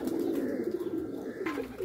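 A domestic homing pigeon coos up close in a steady, continuous low warble, its soft rolling call running throughout without any talk over it.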